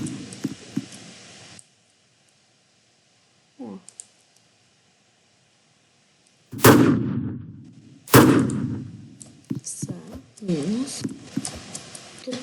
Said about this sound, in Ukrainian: реально десь звідси стріляють